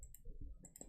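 Quick clicks from a computer keyboard at a trading desk, a handful of soft, close keystrokes in a short burst with a pause in the middle, no talking.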